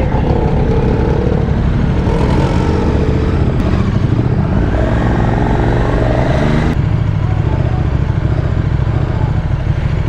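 A Paika motorcycle engine runs loud and close throughout, a constant dense roar with small surges in pitch and no pauses.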